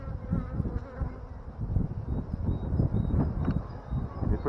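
Honeybees drone steadily around an open beehive colony during an inspection, a dense, continuous close buzz with individual insects swelling and fading near the listener.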